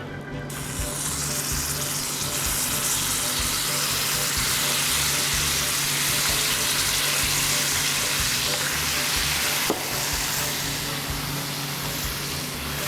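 Sandwiches fry in a hot pan with a loud, steady sizzle that fills the whole stretch, broken once by a brief click, with no talking.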